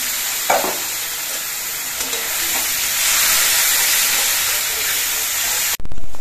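Chilli powder and turmeric spice mix frying in a pan while a little water is splashed in, giving a steady loud sizzle and steamy hiss with brief stirring scrapes, then a sharp drop and renewed burst near the end.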